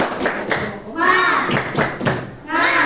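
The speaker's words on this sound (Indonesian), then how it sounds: "Tepuk semangat." Children in a grade 6 Indonesian classroom perform a rhythmic clapping chant, bursts of claps and thumps alternating with loud chanted voices in short repeated phrases, close and lively.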